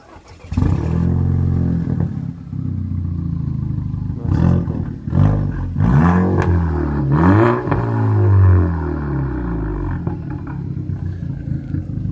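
A Seat Ibiza Cupra 6J starts up and revs hard, the engine roaring up and down in several loud close sweeps with sharp popping backfires between throttle blips before settling to a steady idle.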